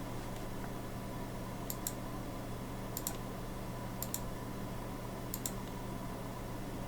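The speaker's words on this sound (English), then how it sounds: "Now I press the left button of the mouse" Sharp double clicks of a computer mouse's left button, four quick pairs spaced about a second apart over a steady low fan hum, while drawing in Inventor CAD software.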